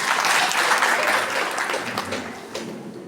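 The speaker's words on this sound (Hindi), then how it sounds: "एकदम जोरदार ताली हो जाए" Wedding guests in a church give a loud burst of sustained clapping that slowly tapers off over a few seconds.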